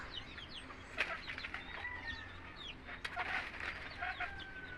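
Chickens clucking in a backyard coop with wood shavings bedding, several birds making soft overlapping clucks and short calls, faint and close, with occasional rustles.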